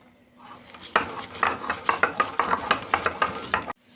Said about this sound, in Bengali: এগুলো সব একসঙ্গে বেটে নেব।